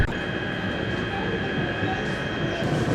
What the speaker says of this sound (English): Nice little metro system